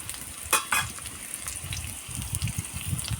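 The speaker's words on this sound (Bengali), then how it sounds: "এই জন্য আমি হালকা আঁচে ভেজে নেব।" Pumpkin-leaf chepa puli pitha frying in oil over low heat, a close, continuous bubbling crackle with a couple of sharper pops early on and faint stirring, no voices.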